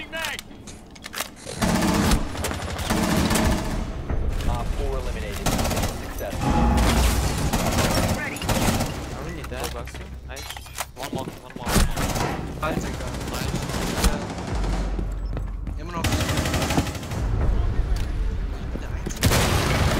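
Gunfire in a shooter video game, repeated bursts and single shots with occasional booms, loud and irregular, mixed with game sounds and people talking.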